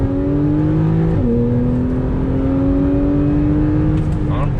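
A Porsche 911 4S pulls hard, its engine drone climbing steadily in pitch, dropping at one quick gear change, then rising again loud and close from inside the car.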